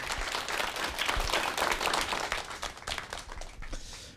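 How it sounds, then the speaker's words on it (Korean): A studio audience applauds Kunsan National University professor Jeong Gyun-seung after his televised lecture, with dense, moderately quiet clapping that swells and then thins toward the end. "큰 박수 보내 주시기 바랍니다"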